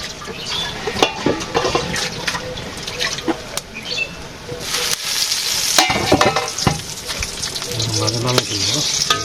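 Eggplant slices for begun bhaji fry in a pan in a village kitchen, with a steady sizzle and bursts of stirring scrapes throughout, and faint voices in the background.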